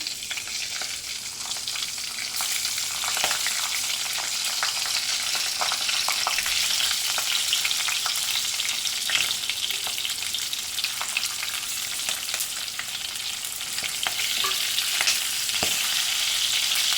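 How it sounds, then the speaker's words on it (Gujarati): Green chilies stuffed Gujarati style, added to hot oil with ajwain and asafoetida, fry with a loud, steady crackling sizzle punctuated by occasional pops and stirring clatter, without any voices. "તેલ ગરમ થઈ ગયું છે, તો થોડું આપણે અજમો લઈ લઈશું, થોડીક હિંગ, હવે મરચાં ઉમેરી દઈશું આપણે"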